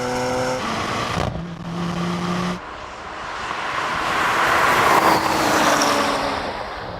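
A BMW X3, Porsche Macan GTS and Mercedes GLC 43 launch off the line side by side, engine tones rising through gear changes into a broad roar that swells as the SUVs accelerate, loud and close with no talk.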